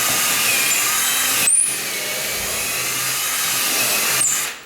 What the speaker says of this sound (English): I drill it up here and drill it into the stud